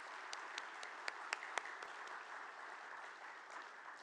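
Audience at a preservation awards ceremony applauds a retiring executive director, a dense, even patter of clapping with a few sharper nearby claps standing out early on, moderately distant.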